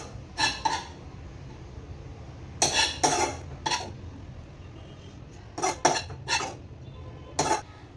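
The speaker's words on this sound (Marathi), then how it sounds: "गरम गरम कॉर्न राईस आहे ते प्लेटमध्ये काढून घेतला." Hot corn fried rice being served from a metal pan onto a plate, with a handful of short clinking and scraping bursts of utensil against cookware spaced apart over a quiet background.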